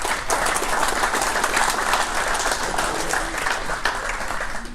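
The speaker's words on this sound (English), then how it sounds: "Give him a round of applause." A crowd applauds at an awards ceremony, sustained dense clapping throughout with a few sharper individual claps standing out near the front.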